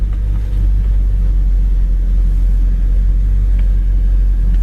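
A 1966 Buick GS convertible engine runs steadily while driving, a loud continuous low rumble throughout with no voices.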